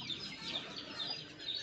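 Native chickens, hens kept with chicks, cluck softly and steadily in a short, faint, continuous burst of calls, with no talking.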